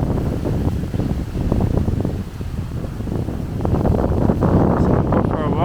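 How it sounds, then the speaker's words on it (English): Strong wind on a clifftop beside the River Vit in autumn, buffeting the microphone in loud, gusty low rumbles that swell and ease and grow heavier toward the end, with a voice partly buried beneath. "it's quite windy, so I hope you can hear me."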